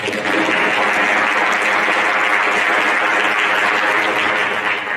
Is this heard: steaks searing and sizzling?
no